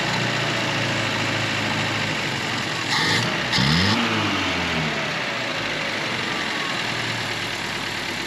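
A 1971 Datsun 521 pickup engine with idle problems, running on two-stroke gas, idling roughly up close with a steady uneven rumble and a brief rise in revs midway.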